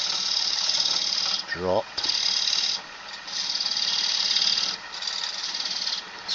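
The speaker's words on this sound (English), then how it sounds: "I'm going to use the other side of the gouge and start trying to form this ickle" A woodturning gouge cuts wood spinning on a lathe, producing repeated bursts of bright hissing shavings that stop and start between passes, with a brief spoken word near the start.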